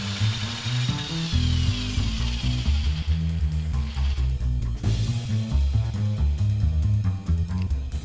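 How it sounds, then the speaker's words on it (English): A power drill whines and grinds up close, drilling a 1/4 inch hole into bicycle handlebars, its pitch rising and falling as it bites, continuous and loud for several seconds. "Drill a 1/4 inch hole into the top of the handlebars as demonstrated here."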